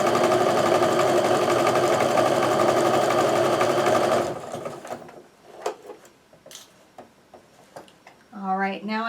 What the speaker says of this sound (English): I'm going to sew along